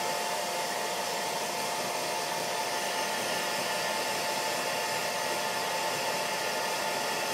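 A hair dryer blows steadily on a pet bat, a constant loud whooshing hiss that runs unbroken from start to finish with no voices.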